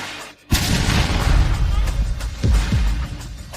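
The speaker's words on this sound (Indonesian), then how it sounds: "itu kembang api versi kuat" A powerful firework explodes with a sudden loud boom, followed by a rolling, crackling rumble and two further deep thuds a couple of seconds later, all heard alone without talk.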